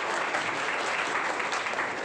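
Audience applause at a guesthouse inauguration ceremony for a college in Osmanabad: dense, steady clapping from a crowd, sustained loud and even throughout with no pause.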